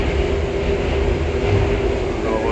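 A train to Dong Hoi rumbles steadily through a tunnel, a dense, loud roar with a faint hum running through it, heard from inside.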